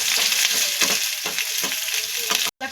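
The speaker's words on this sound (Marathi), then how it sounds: "कांदा व्यवस्थित 5 मिनिटं मऊ होईपर्यंत फक्त आपल्याला परतून घ्यायचं आहे" Finely chopped onion sautés in hot oil in a kadhai, a close, constant crackling sizzle broken by repeated scraping strokes of a spatula every half second or so, then cut off abruptly near the end.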